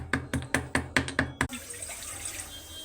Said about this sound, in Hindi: ग्लास पानी ऐड करेंगे